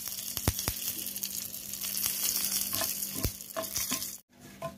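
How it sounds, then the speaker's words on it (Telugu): Curry leaves frying in hot oil in a pan after chana dal, a steady close crackling sizzle with sharp pops and spatters throughout, briefly cutting out near the end. "ఇప్పుడు ఇందులోనే కరివేపాకు వేసి వేయించుకుందాం."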